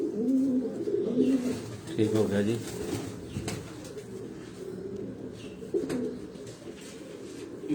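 Rooftop pigeon loft with pigeons cooing in low repeated bursts close by, mixed with someone talking over them.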